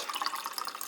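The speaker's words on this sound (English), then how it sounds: "you open up this can of Blackberry Hibiscus sparkling water and you pour it into this" Blackberry hibiscus sparkling water poured steadily from a can into a glass, a continuous bright bubbling splash with crackling fizz throughout, close and moderately loud.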